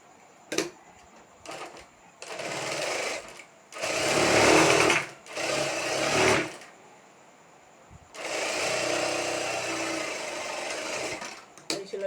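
A sewing machine stitches seams on salwar (patiala) pants in runs of a few seconds, its fast mechanical whir starting and stopping between short pauses, with handling clicks and a voice talking between bursts.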